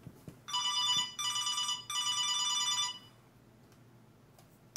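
A phone rings nearby with three electronic trill bursts in quick succession, clear and fairly loud over quiet room noise, then stops.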